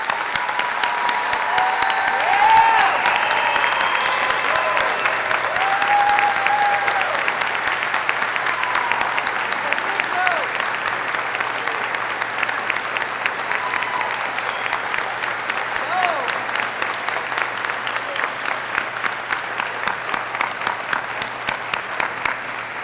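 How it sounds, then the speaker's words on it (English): A large crowd applauds warrant officers at a military graduation ceremony, steady clapping that runs over twenty seconds and fills the hall, with a few faint voices beneath it. "Please join me in a round of applause for these outstanding warrant officers."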